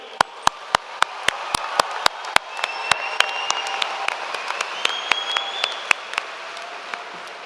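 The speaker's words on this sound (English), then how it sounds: "Let's give ourselves a round of applause." Sparse, scattered claps ring out one at a time at first, then fill in with more hands, with faint chatter and a whistle underneath, at a high school graduation ceremony.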